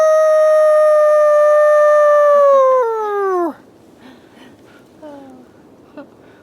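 Dog howling outdoors in the backcountry on a day hike, one long loud sustained howl that slides down in pitch and breaks off, followed by a few faint short whimpers.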